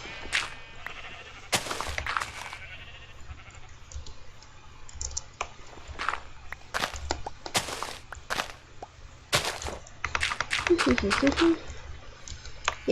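Sheep at a sheep farm in a block-building video game, occasional faint bleats mixed with rapid keyboard typing and mouse clicks, a voice talking now and then.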